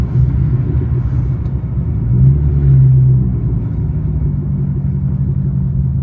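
A 2006 Corvette C6 engine running while being driven, a steady loud low rumble heard from inside the car with a slight swell in revs midway through.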